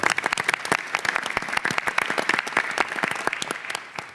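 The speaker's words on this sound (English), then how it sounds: "Give them a round of applause," Applause for NYCHA employees at a mayoral announcement on lead prevention: a modest crowd clapping, with individual sharp claps clearly audible in a quick irregular patter throughout.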